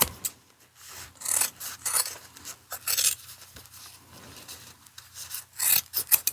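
Scissors cut through thick denim jeans being trimmed for bib overalls, giving repeated rough, rasping snips in irregular bursts at close range with no talking.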